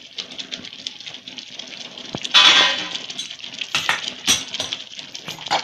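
Matar paneer gravy being stirred in a pan over a low flame: a utensil scrapes and clinks against the metal in irregular strokes, close and moderately loud, with no talk.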